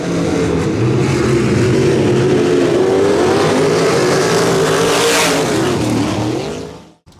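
Race car engines at a Thursday Night Thunder event rumble and rev loudly for several seconds with shifting pitch, then cut off abruptly near the end, with no voices over them.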